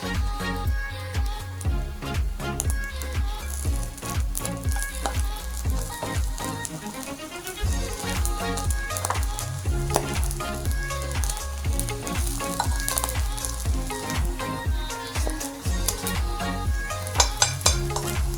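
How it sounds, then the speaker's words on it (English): Fish pan-frying for sweet and sour fish gives a continuous, fairly loud sizzle with stirring and scraping sounds all the way through, a brief dip near the middle, and sharper clinks close to the end. "we'll just pan fry this fish"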